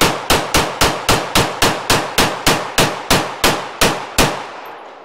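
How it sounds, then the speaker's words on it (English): A Glock 34 pistol fires Phoenix ammunition in a fast, evenly spaced string of about fifteen loud, sharp shots at a range, ending abruptly after the last round. "Let's try that Phoenix ammo out of the Glock."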